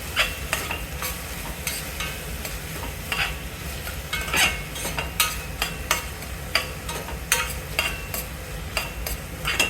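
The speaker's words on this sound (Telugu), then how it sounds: "ఒక మంచి స్పూన్ తీసుకొని ఇలా చక్కగా కలుపుతుంది" A spoon stirs small-cut tomatoes and chicken in a hot pan, scraping in a steady rhythm of taps and strokes over a constant sizzle of frying, close up and with no one talking.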